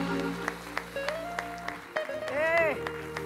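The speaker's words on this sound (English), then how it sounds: "give the Lord a clap offering" A church congregation claps a steady, rhythmic clap offering to the Lord, sharp beats spaced about a third of a second apart over sustained music tones and a voice.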